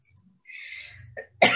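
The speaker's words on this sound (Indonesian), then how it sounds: "maaf, agak batuk." A single short cough from a woman in a quiet room, sharp and close, following a brief throat sound and soft breath.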